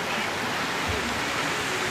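A stream flows openly past a riverside tent camp at Sukute Beach in Nepal, giving a steady, close rush of broadband water noise that runs unbroken for the whole short stretch.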